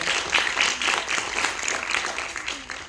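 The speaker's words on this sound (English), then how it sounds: "please give a round of applause to her" An audience at a youth SDGs idea presentation competition claps for a participant returning to her seat, a short, steady patter of applause with separate claps audible, moderately loud.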